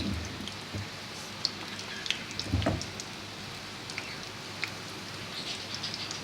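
Fried qeema samosas are lowered into hot oil over a low flame, giving a quiet, sparse crackle and soft pattering pops with no talking.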